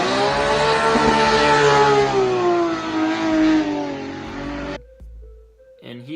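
A 2J-engined Toyota A90 Supra runs and drives, its engine note rising steadily with strong harmonics for several seconds before cutting off abruptly into near silence.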